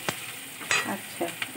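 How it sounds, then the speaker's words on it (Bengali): Onions fry in a pan, salted so they soften faster, giving a soft sizzle broken by a few brief scraping stirs of a spatula over a short stretch. "শুধু পেঁয়াজটা তাড়াতাড়ি ভাজা হওয়ার জন্য দিলাম"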